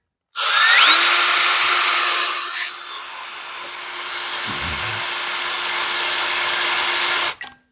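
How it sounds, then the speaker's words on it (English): Power drill boring a pilot hole in stainless steel sheet: a loud whining spin-up, sustained high-pitched grinding that eases midway, then a steady run before stopping, with no talk. "So the first thing we got to do is drill a hole."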